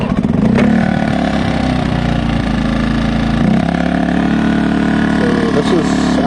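An XTM 2000W inverter generator runs at a steady, fairly high idle with a buzzing, humming drone, loud and close, while someone talks over it.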